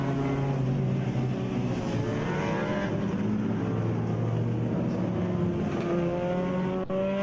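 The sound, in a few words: racing cars on track behind safety car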